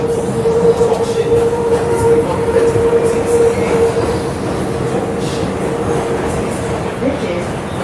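An R211 subway car on the F line rolls along steadily, with a loud continuous rumble of wheels on rail and a sustained metallic tonal whine running throughout.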